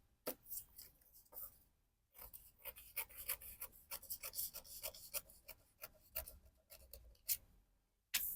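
Scissors cut through a dress fabric pattern piece, giving crisp rhythmic snipping and rustling strokes in close, quiet bursts with a brief pause, and no one speaking.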